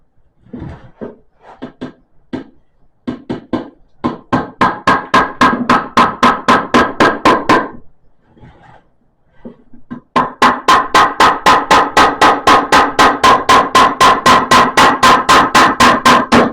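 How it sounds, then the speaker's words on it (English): An ornamental hammer strikes a cedar board being built into a birdhouse, first in scattered taps, then in long, steady, rapid runs of loud, sharp knocks close by. "I get to use John's ornamental hammer"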